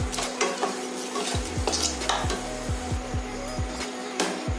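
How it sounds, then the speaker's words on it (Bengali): Whole garam masala spices stirred and fried in a pan, a light sizzle under repeated scraping and knocking of a spatula against the pan in a loose rhythm. "মশলাগুলোকে ভালো করে একটু নাড়াচাড়া করে নেব যতক্ষণ না মশলা থেকে সুন্দর একটা গন্ধ বেরোচ্ছে"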